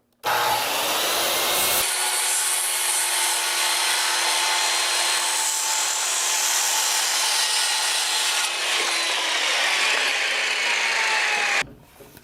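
A power saw rips through a wooden roof rafter during roof framing, a loud, steady whining cut of about ten seconds with a rising pitch at the start and an abrupt stop near the end.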